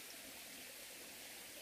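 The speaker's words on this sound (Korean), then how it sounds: "물소리 들리시죠?" A steady outdoor stream flows with a soft, continuous rushing hiss, faint and unbroken, with no voices.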